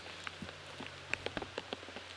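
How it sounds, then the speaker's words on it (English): Rain falling hard during a disc golf round, a steady patter with scattered sharp drops striking nearby surfaces, soft and close under a low background hum. "it's definitely raining pretty hard at this point"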